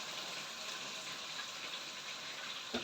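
Fish sauce being poured into a dish during home cooking in a kitchen, a steady liquid pour and hiss running evenly throughout with a brief bump near the end, and no talking.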